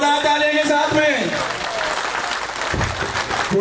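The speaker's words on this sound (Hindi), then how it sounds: "माला से स्वागत करते हुए जोरदार तालियों के साथ में" A crowd of young supporters applauds loudly during a garland welcome for Vikram Singh Jakhal in Gothara village, steady dense clapping with a voice speaking over it at the start.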